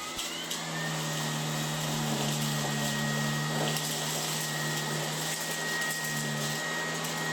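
A Dreame R20 cordless stick vacuum fitted with its multi-surface brush runs over carpet, giving a loud, steady motor whine and airflow hum that holds constant throughout with no talking.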